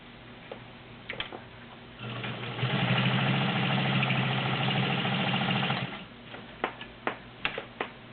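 Vintage White Model 530 zigzag sewing machine running, a close, steady rapid mechanical chatter for a few seconds between quieter ticks and clicks of the machine being handled before and after.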